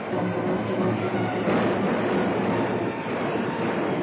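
A train rumbles past close by in a steady, loud, continuous roar of rail noise with faint clattering wheels, lasting the whole stretch with no talk.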